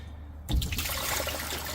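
Water drains and splashes from the leaking hose at the pump of a Samsung washing machine, starting with a sudden close gush that settles into a steady trickling, sloshing flow.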